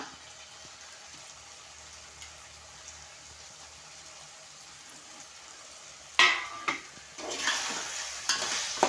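Tender tamarind leaves dropped into hot oil for a mutton dish set off a sudden sizzle after a quiet stretch, followed by stirring and frying noise that keeps crackling close by.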